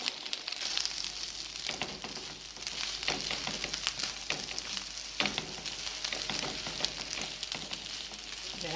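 Vegetable fried rice with eggs being stirred in a hot pan, a steady close sizzle and fry broken by scraping, clattering strokes of the utensil throughout.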